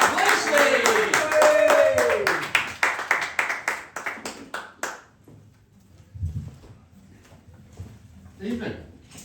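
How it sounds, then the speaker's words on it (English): Audience clapping at a comedy show: rhythmic, close claps over music fade out after a few seconds, then quiet stretches with brief sounds and some talk. "Clap your hands, make some noise."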